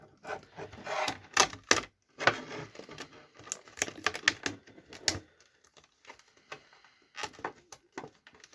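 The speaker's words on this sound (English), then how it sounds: "Let's see if we can get this tape off so I can slide the sabers out" Tape peeled and rubbed off a Star Wars Black Series Ahsoka figure's plastic packaging, a close series of sharp crackling rips and scratchy rustles in irregular bursts, with quieter pauses between.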